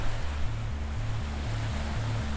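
Ocean waves on a beach, a continuous soft surf hiss under a repeating low musical bass pattern, even and moderately quiet with no talking.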